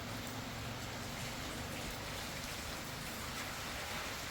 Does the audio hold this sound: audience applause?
no